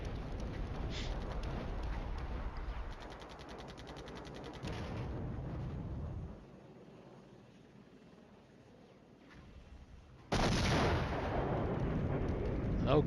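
Rocket artillery fire in the Flashpoint Campaigns Red Storm wargame: a dense rumbling barrage of launches and blasts, loud at first, easing into a quieter stretch before a sharp loud burst returns near the end.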